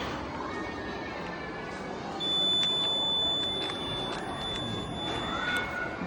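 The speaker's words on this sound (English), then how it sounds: "we have made a rain detector. It detects moisture and it gives an alert as possible to the floods." A homemade rain detector built as a science exhibition flood-alert project sounds a thin, high electronic alarm tone that holds steadily for several seconds over the murmur of a busy hall.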